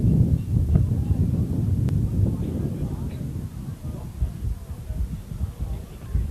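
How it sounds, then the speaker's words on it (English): Steady low wind rumble buffeting the microphone throughout at an outdoor under-15 football match, broad and blustery with gusts rising and falling, no clear speech on top. "The wind's picking up yet again. A pretty windy game."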